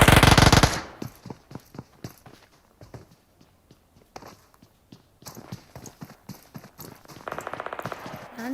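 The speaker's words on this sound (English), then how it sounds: "It is firing shots coming from the other end." Gunfire in an online battle-royale video game with duo teams: a loud burst opens, then a long string of separate sharp shots and short bursts comes from farther off, with some close fire near the end.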